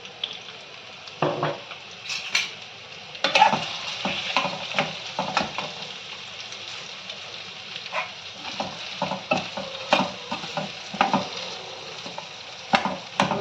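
Potato pieces sauté in hot oil in a pan for sabudana khichdi, giving a steady sizzle. A spoon stirs and scrapes the pan with repeated clanks and scuffs, close up and with no voices.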